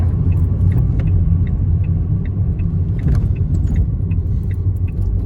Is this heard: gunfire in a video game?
no